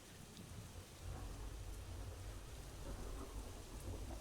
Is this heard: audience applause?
no